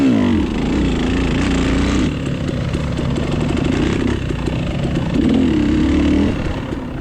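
A KTM dirt bike revs and labors through a muddy hare scramble course, its engine note steady and close with rising surges as the throttle opens and eases.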